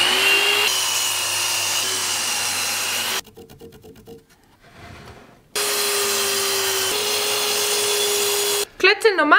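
A power saw cutting wooden blocks for a homemade Viking chess set, a loud steady whine that runs for several seconds, stops briefly amid softer handling noises, then resumes for another long cut.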